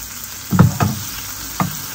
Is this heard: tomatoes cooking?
yes